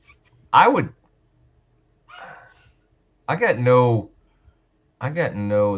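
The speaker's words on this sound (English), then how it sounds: "dog seems to have some opinions" A dog barks a few times in the background while someone talks over it during a sports talk show.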